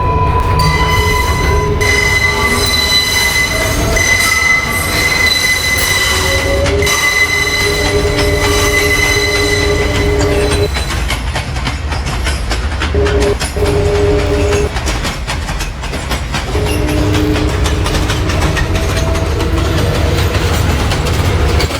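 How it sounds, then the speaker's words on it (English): A Manhattan-bound New York City subway 4 train runs loudly and continuously, with a steady rumble, rattling cars and high squealing wheels on curves. No one speaks. "This is a Manhattan-bound 4 train."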